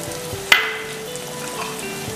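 Chopped ginger, garlic and curry leaves drop into a hot pan for Chicken Pollichathu, giving one sharp sizzling burst that eases into a soft, steady frying hiss.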